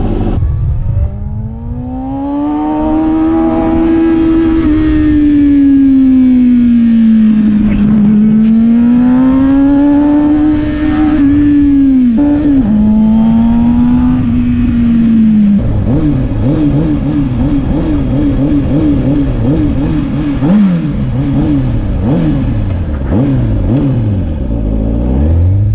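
A Kawasaki motorcycle engine runs loud and close, its revs swelling and falling in long sweeps, then settling into a rougher, choppier running pitch for the final stretch.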